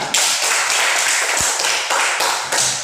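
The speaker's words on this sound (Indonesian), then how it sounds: "Tepuk tangan." A classroom group claps together in quick, steady applause, close and lively, for a few seconds.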